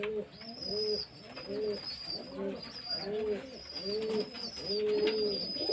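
Several pigeons coo in a steady repeating rhythm close by, drinking from a dish of whitish sour-curd water set out against the heat, with a constant high whine in the background and no talk.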